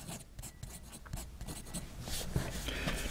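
Knox Galileo fountain pen with an OBB nib being written with on paper under some pressure, giving soft, irregular scratching strokes close by and quiet, with no talk.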